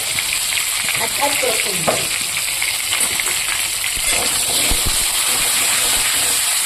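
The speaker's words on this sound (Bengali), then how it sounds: "এবার আমি দিয়ে দেবো এখানে কেটে রাখা আলুগুলো ভেজে নেব একটু" Cut potatoes fry in hot oil in a pan with dried red chillies and whole cumin, giving a steady, loud, continuous sizzle with occasional soft stirring knocks throughout.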